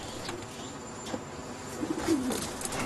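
Prized pet pigeons coo softly in a few low, rolling calls against quiet background noise, closer and clearer toward the end.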